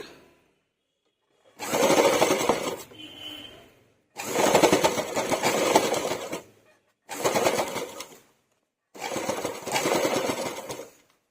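A sewing machine stitches a pant waistband during a zipper replacement, running in four separate whirring bursts of a few seconds each, with short silent pauses between them.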